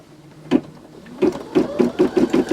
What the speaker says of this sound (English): Let's start stitching.